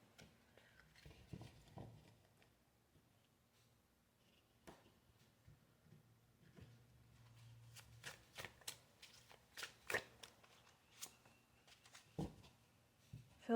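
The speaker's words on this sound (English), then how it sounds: "I'm just going to shuffle some preliminary cards to get started." Tarot cards shuffled by hand, soft riffling and crisp slaps coming in irregular bursts, quiet and close, growing busier toward the end.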